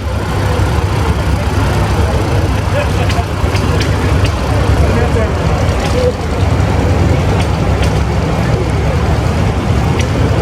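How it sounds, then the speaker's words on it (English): A John Deere loader utility tractor runs at the Badger Steam & Gas Engine Club show in Baraboo, Wisconsin, its engine rumbling loudly and steadily over a dense outdoor background without pause. "John Deere loader utility tractor."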